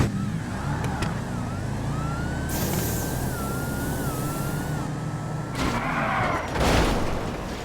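Street-raced cars in GTA V launching off the line, heavy engine roar and rumble running steadily throughout, with a rising whine and a louder surge near the end.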